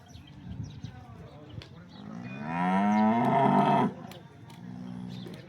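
A dairy cow gives one long, loud moo lasting over a second, with farmyard noise and people talking faintly around it.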